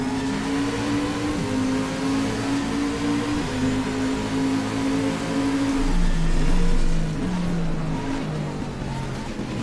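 Race car engine in the racing game GTR2, a steady loud roar that rises and falls with acceleration and braking through the gears, sounding close and continuous throughout.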